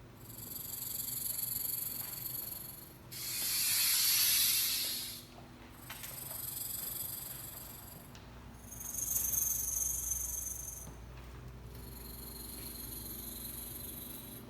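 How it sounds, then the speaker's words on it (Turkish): Small snakes hiss in several bursts, some sharp and airy, others thinner and buzzing, separated by short pauses over a quiet background hum. "Bu da küçük yılanların sesi."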